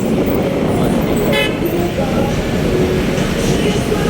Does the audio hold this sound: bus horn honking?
yes